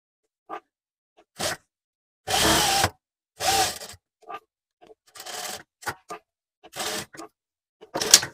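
A sewing machine does double stitching on a sleeveless blouse in short, separate bursts of whirring. The bursts are close and moderately loud, with silent gaps between them.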